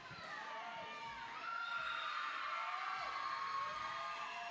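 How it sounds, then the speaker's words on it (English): A roller derby crowd cheers during a bout between the Rose City Wreckers and Gorge Roller Derby, with distant high-pitched yells and whoops that swell louder partway through. "And the crowd grows wild."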